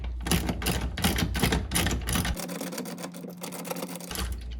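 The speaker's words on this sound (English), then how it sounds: "Once you got it hand tight, transition to your ratchet and socket" A 1/2 inch ratchet and socket tightens a hinge pin on a Mercruiser Alpha One Gen 1 outdrive. Quick bursts of close, rapid clicking repeat in short runs with a brief pause between them.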